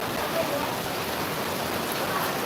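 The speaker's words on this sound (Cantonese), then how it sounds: "呢度好多人都喺度等雨停啊" Steady rain pours down on a Hong Kong street, a dense, even hiss with no breaks that sits at a moderate distance and holds for the whole stretch.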